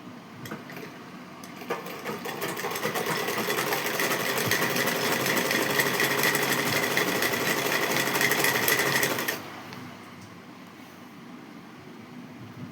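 A sewing machine stitching fabric runs in one steady, even whir for about eight seconds, close and moderately loud, then stops, leaving quiet room tone.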